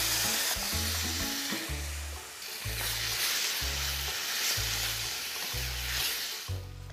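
Tomatoes hit a hot pan of sauce for meatballs and sizzle steadily and close by, a continuous frying hiss with no talking.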